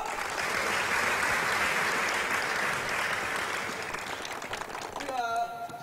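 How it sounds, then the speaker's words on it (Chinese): Sustained audience applause at a rural outdoor performance by a migrant workers' art troupe, a dense, steady wash of clapping that fades slightly near the end as a short musical sting cuts in. "鼓掌！"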